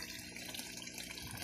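Water from a homemade koi pond running steadily into a cheap DIY filter system, a constant close splashing rush with no break and no talking.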